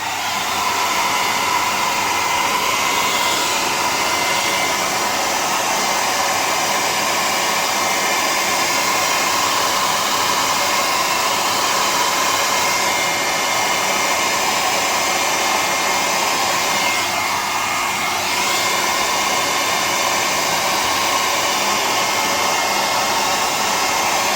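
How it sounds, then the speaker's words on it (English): Hair dryer blowing steadily on a wall switch that leaks current, a loud continuous broadband whoosh held for the whole stretch with a slight shift in tone partway through. "let's see if the hair dryer can fix it"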